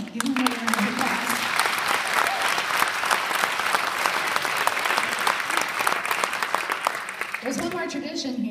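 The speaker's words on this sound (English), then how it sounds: "Give them another round of applause." Audience applause after a high school orchestra concert: a sustained, dense round of clapping from a large crowd, with a voice speaking briefly at the start and again as it fades.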